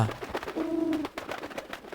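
A pigeon gives a short, low coo amid a busy background of fluttering and rustling as pigeons feed on rice.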